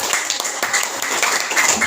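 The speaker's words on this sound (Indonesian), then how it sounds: "bagus sekali, tepuk tangan." A classroom of students clapping their hands together in a steady, dense patter of close, fairly loud claps lasting the whole moment.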